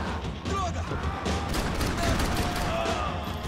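Gunfire in the Max Payne 3 video game, a steady dense wash of shots and fusillade-like bursts running throughout at fairly even loudness, with no clearly separated single cracks.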